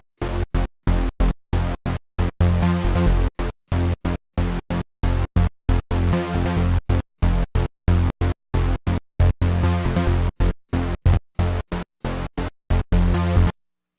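A synthesized trance bass pulses in short, gated, rhythmic stabs, dense and loud, with brief silent gaps between hits and no voice over it.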